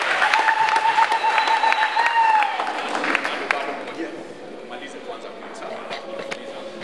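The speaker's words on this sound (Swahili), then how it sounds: "Pigieni James makofi." Applause and clapping from a wedding crowd at a community centre in Nairobi, cheering for the groom, steady and fairly loud for a few seconds, then thinning out to scattered claps over a lingering murmur of voices.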